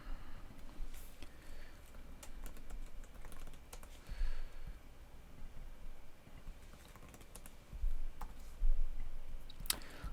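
Keys clatter steadily on a computer keyboard as coordinates are typed in during a 3D cover-art session in Photoshop, Illustrator and Cinema 4D, with a fairly quiet, continuous patter and a few sharper clicks.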